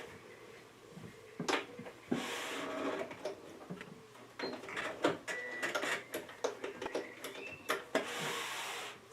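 Sewing machine stitching around the curves of a Japanese knot bag, a close run of short rattling bursts with brief pauses between seams, no voices.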